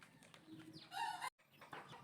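Young chicks in a scratch pen give a few high, thin peeps at close range, one louder chirping call standing out briefly against quiet background.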